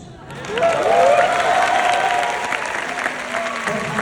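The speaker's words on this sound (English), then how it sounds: "the best music I have heard today is your claps and applause" A theater crowd at the TCL Chinese Theater in Los Angeles bursts into loud, sustained clapping and cheering, rising quickly and holding steady, with a voice calling out over the applause.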